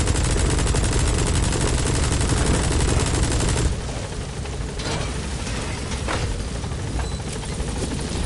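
Heavy gunfire roars in a dense, continuous burst in Metal Gear Solid V: The Phantom Pain, then cuts off abruptly into quieter background noise, with a few scattered later shots.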